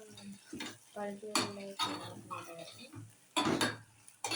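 A spoon stirs curry as it fries in a pan, giving intermittent scraping and clinking bursts under someone speaking Telugu nearby.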